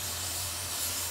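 Cleaner is sprayed in a slow, steady stream onto a Weber ICT carburetor during a rebuild, giving one continuous close hiss that lasts the whole moment without a break.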